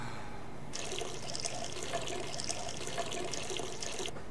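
Shower water running in the Sleeping Dogs video game, a steady hiss of spray that starts abruptly and continues evenly for several seconds before cutting off, fairly close and without talk.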